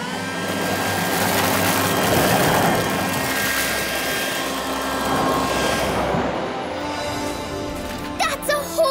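Cartoon vacuum switched to blow dry mode, a steady loud whooshing blast with a rising engine-like roar that holds for several seconds, ending in a few brief sputters.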